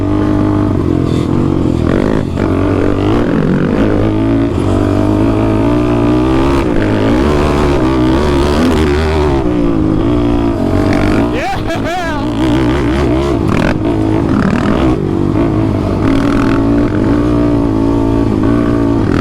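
Two quad ATVs, a built Honda TRX450R and a Yamaha Raptor 700, riding together, engines droning and revving loudly and continuously up close, with wind buffeting and a rider's voice over the engines.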